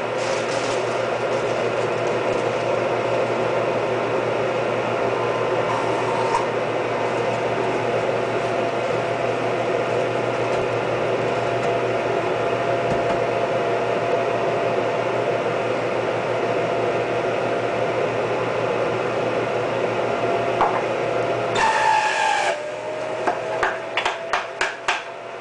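A juicer machine juicing spinach runs with a steady mechanical hum and whir for most of the time, then gives a few louder knocks and clatters near the end.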